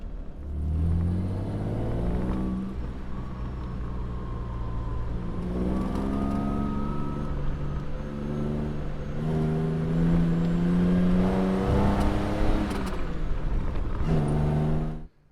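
A 1959 Jaguar XK150S roadster engine drones loud and close while driving, its pitch climbing and falling through smooth downshifts into a roundabout, with no talking over it.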